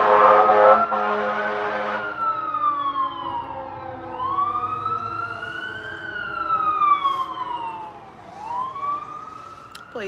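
Emergency vehicle sirens sweep up and down in long wailing cycles as they pass fairly close, loud and steady over faint road noise, with a burst of muffled talk or noise at the start.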